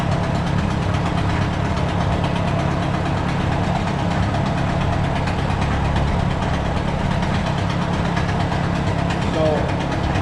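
A steady engine idles while warming up, with a low, even rumble and slight knocking texture, close by and constant throughout; leaky exhaust.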